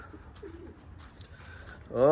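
Pigeons scuffle and coo softly in a breeder cage amid faint rustling, then a louder, close coo swells at the end.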